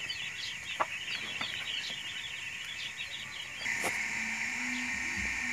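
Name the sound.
chickens clucking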